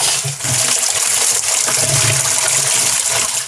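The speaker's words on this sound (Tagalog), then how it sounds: "Nadidrain niya yung tubig sa pond natin." Water gushes steadily out of a koi pond during draining, a loud, continuous rushing and splashing flow that holds without pause throughout.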